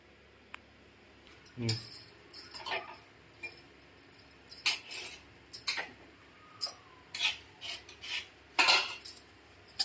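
Irregular clanks and scraping of metal dishes being scrubbed nearby, bursts of clatter separated by short pauses.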